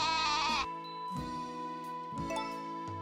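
Sheep in the farming game Story of Seasons: A Wonderful Life bleat three times in succession, each a loud wavering cry with short gaps between, close and clear with no talk.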